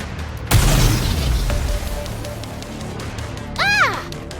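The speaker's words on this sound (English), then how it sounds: "They appear to be homemade. The explosions aren't stable." Homemade explosives going off in the NIKKE: Goddess of Victory video game, one sharp loud boom with a rumbling tail, then a quieter stretch and a short rising-falling whine near the end.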